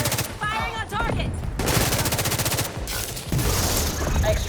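Bursts of rapid automatic gunfire rattle loudly in a firefight in Tom Clancy's The Division 2, coming in dense volleys with short gaps and layered over other battle noise.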